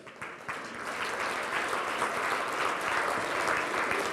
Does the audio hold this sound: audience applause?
yes